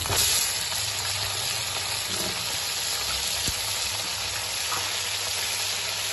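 Chicken pieces frying in a pot for Phaari biryani, a steady broadband sizzle holding at an even level throughout with no talk.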